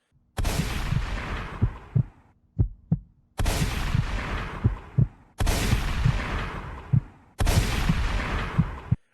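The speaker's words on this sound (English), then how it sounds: "After shooting Bub Trap, you can hear 4 more gunshots." Four loud, booming video game gunshots, evenly spaced, each followed by a long rumbling decay, with a couple of short sharp knocks between the first two.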